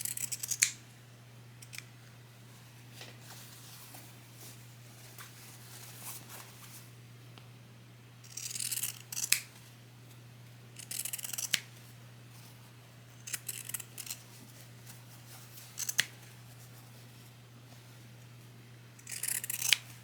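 Scissors snip along the fabric seams of a sewn apron in short, separate bursts of cutting, fairly close and moderately loud, spaced out over a quiet background with a steady low hum and no talking.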